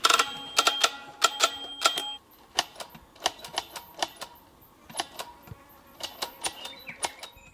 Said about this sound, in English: Now I know it sounds like Andreas is typing on an old-fashioned typewriter, but he's actually counting